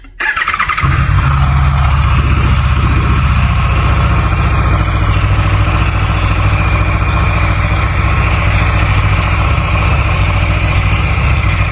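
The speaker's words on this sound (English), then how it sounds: "I'll start the bike, let it rev for a few minutes." An Aprilia RSV4 Factory 1100 sportbike fires up after a brief starter whirr, then holds a loud, steady, close engine idle with a high squealing edge throughout.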